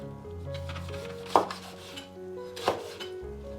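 Pickled mustard greens, soaked and rinsed, are chopped into short pieces with a knife on a cutting board, giving two distinct sharp chops about a second apart over a low background hum.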